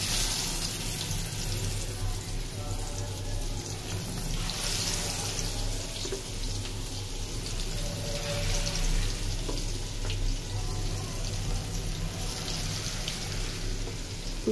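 Fish frying in hot mustard oil gives a continuous, dense crackling sizzle at moderate level, steady throughout with a low background hum and no talk.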